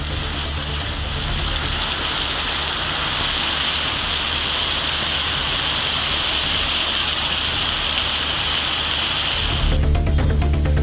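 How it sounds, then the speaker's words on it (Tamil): Heavy monsoon rain pours down for about ten seconds as a steady, loud, dense hiss that stays even throughout, with a brief rougher patch near the end. "சுமார் 2 மணி நேரம் கனமழை கொட்டியது"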